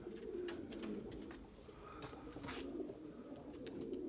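Erzurum white pigeons cooing and calling outdoors, a steady low murmur of soft coos with a few brief sharper notes, fairly close and continuous throughout.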